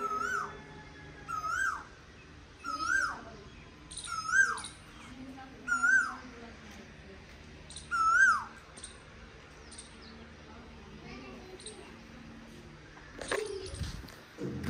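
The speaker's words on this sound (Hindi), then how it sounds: "ये देखो बुलबुल आई हुई है, मजे की बुलबुल है।" Bulbul birds call in a village in the evening, a series of short rising whistled notes repeated every second or two, fairly close, over a faint outdoor background with some low murmuring.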